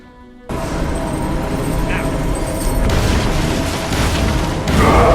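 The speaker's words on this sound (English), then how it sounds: "I love how Batman cues us on exactly when to detonate the gel." A gel explosive detonating in Batman: Arkham Asylum, a sudden loud booming blast after a brief quiet start that swells into a sustained rumbling roar with debris and a second surge near the end.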